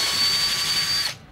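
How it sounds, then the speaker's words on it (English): A power drill bores out a lacquered plug swollen by moisture on a Klon Centaur guitar pedal build, a steady close whine holding for about a second before cutting off abruptly. "we drill it out so we don't have to force things through"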